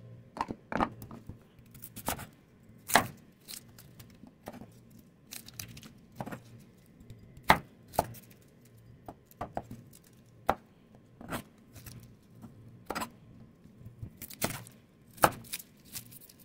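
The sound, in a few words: chopping garlic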